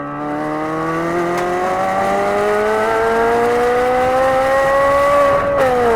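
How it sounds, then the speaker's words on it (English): A McLaren sports car on a race track, its engine howling loudly and climbing steadily in pitch as it accelerates, with a brief dip near the end as it shifts. "I'll play a clip of this thing on track just so you can get the full experience"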